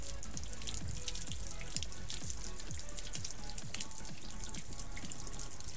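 Water added to a car surface coated with Topcoat F11 and The Last Coat, soft continuous dripping, splashing and fizzing of water, faint and close, with no one talking.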